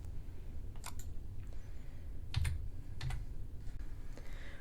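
Keystrokes on a computer keyboard come as scattered, light clicks while digits are typed, close and clear over a low steady room hum, with short pauses between taps.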